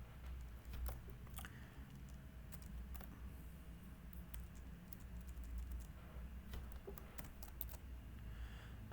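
Computer keyboard typing while writing code, a steady run of soft, irregular key taps at close range with no talking.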